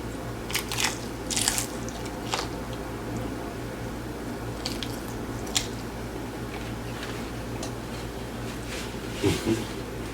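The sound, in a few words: chewing crunchy hard shell spicy Samyang tacos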